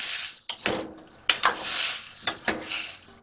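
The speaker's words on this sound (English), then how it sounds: "Give that a stir." Chopped tomatoes are stirred into lamb in a frying pan on a narrowboat, giving a bright hiss of frying broken by several sharp spoon scrapes and clacks against the pan, close up.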